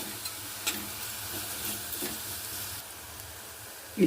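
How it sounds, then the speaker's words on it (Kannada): Rock salt sizzling in hot oil as it is stirred by hand, making a close, even frying hiss with light scraping strokes throughout and a small knock at the very end. "ಎಣ್ಣೆ ಒಳಗೆ ಕಲ್ಲುಪ್ಪು ಹಾಕಿ ಕೈ ಆಡಿಸ್ಕೊಂಡಿದ್ದೀನಿ"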